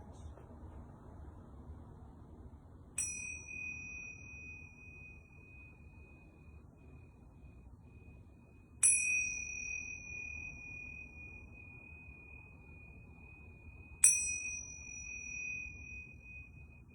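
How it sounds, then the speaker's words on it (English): Yoga bells ring three times, each a clear bright strike with a long sustained ringing tone that slowly fades, spaced several seconds apart over a quiet low background. "Now I'm going to ring these yoga bells"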